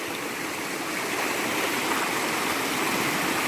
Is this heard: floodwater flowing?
yes